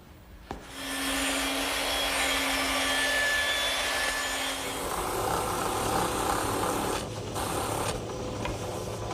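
A drum sander smooths sawn wood edges in a woodworking shop, starting with a sharp click and then a steady loud whirring drone that shifts in tone partway through as the wood is fed against the drum.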